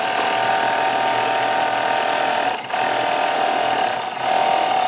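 An industrial sewing machine finishes hand-sewn burial gowns in a workshop, giving a steady, continuous mechanical whir at close range with two brief dips before it runs on, and no talk over it.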